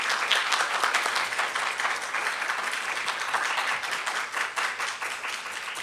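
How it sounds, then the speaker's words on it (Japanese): Sustained, dense applause rings out at a press conference marking the retirement of the captain of the Japanese women's volleyball team. Many pairs of hands clap steadily and fairly loudly throughout, with no speech over it. "皆様、大きな拍手をお願いいたします。"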